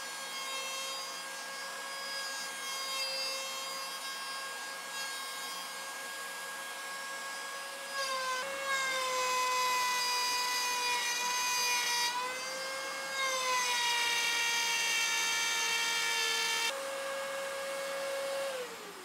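A router cuts out the inside of a wooden circle, guided by a jig rotating on two bearings. The shop tool whines loud and steady with shifting harmonic pitch as the cut progresses, close by and with no voices.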